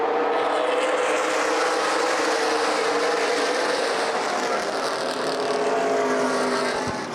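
Pack of short-track race cars at Lucas Oil Raceway Indianapolis during a CRA Super Series race, one car running rough: a loud, continuous engine roar sustained throughout, with no talk over it.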